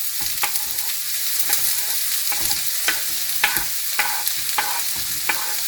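Onions sauteing in avocado oil for a beef meat pie filling, a steady close sizzle broken by regular sharp scrapes of a utensil stirring the pan, with no talking.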